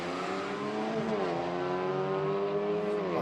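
A Volkswagen drag racing car revs hard and steadily climbs in pitch, a loud, continuous roar building revs for launch at a drag strip.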